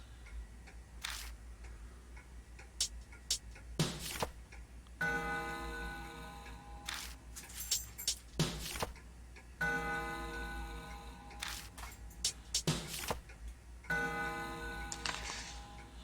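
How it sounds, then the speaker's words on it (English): An in-game clock in Spirit Hunter: NG ticks and chimes as its long hand is spun, producing repeated sharp clicks and several ringing tonal bursts over a steady low background hum. "When I spin the long hand, the clock makes a noise."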